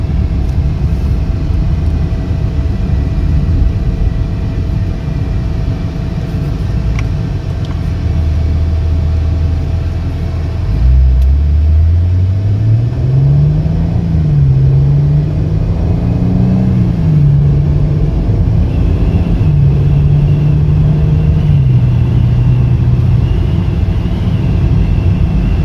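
A 2017 Maserati Ghibli's engine drones low and loud while driving, over heavy road and wind rumble, with the revs climbing and easing through several gear changes in the second half.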